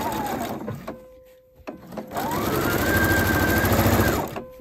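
A sewing machine stitches curtain fabric, guided by the presser foot and a ruler attachment, running in two close, steady bursts with a brief pause between them.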